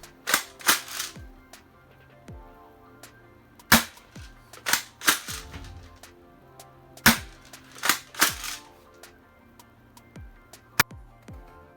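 A spring-powered M690 airsoft shotgun fires repeatedly in sharp, close, snappy cracks, each followed by short mechanical clacks of cycling, with irregular spacing across the shots.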